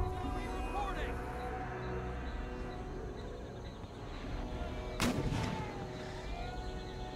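Artillery great guns firing in the Empire: Total War battle game, low rumbling booms over a constant battlefield din, with one sharper, louder blast partway through.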